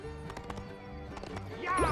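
Horse galloping in the Toy Story 3 video game during a technical race, with a rapid clip-clop hoof rhythm, a whinny near the end, and game music and sound effects layered over the short stretch.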